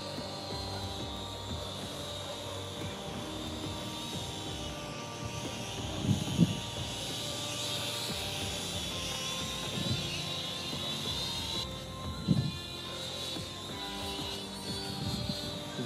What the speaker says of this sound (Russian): Квадрокоптер медленно летит в нашем направлении,